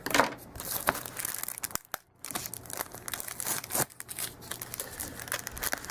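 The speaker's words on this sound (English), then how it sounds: "Now I'll use my scissors on this one." Scissors snip and crinkle through stiff plastic phone packaging, with irregular cuts, crackles and rustling close by.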